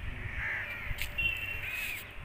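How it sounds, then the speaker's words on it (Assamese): Crows caw repeatedly in the morning outdoors at a home in Duliajan, several harsh calls close together over a steady background hum, with no talking. "মৰ্ণিঙৰ পৰা কাউৰীয়ে কাউ কাউ কৰি আছে একদম"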